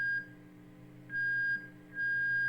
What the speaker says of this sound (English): It's screeching. That means I need to put wax or silicone inside that pickup to keep it from vibrating like that.